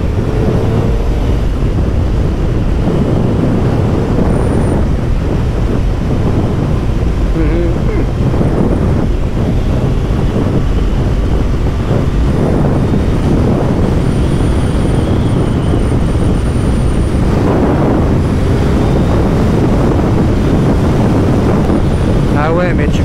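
A Suzuki Hayabusa sport motorcycle ridden at speed, with a steady loud roar of engine and heavy wind buffeting the microphone throughout, with no clear pauses.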